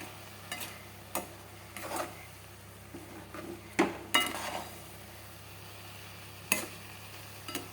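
Curry leaves dropped into hot oil in a pan give a soft, low sizzle, broken by several sharp clinks and scrapes of a spoon stirring against the pan; no one speaks.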